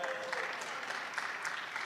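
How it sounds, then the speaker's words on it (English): Applause from an audience at an event honoring prominent Sikhs in the USA, a brief steady patter of many hands clapping together at moderate volume. "he's clapping when I said that"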